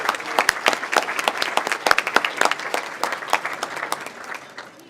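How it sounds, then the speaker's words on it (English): An audience at the 2018 ATHENA Award event breaks into warm applause, a dense patter of many hands clapping nearby that stays steady and tapers slightly toward the end. "join me in a round of applause for Kim and all of her work"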